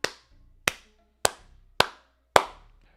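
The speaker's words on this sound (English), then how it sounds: "Very, very, very weak clap" Five slow, sharp single hand claps land at roughly even spacing, each a crisp close smack that decays quickly into near silence, deliberately unenthusiastic and sparse.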